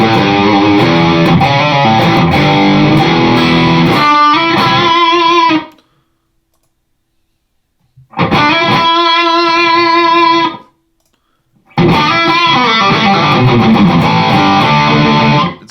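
Loud distorted electric guitar through a Line 6 Powercab 112 Plus speaker, playing in bursts, with a few seconds of silence between each of the three dense, buzzing passages.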